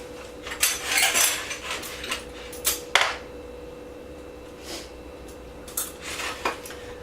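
A small metal spoon clinks against a container while Cuban café cubano is prepared, several light, bright taps in quick clusters near the start and again around the middle and end, close and fairly quiet over a steady low hum.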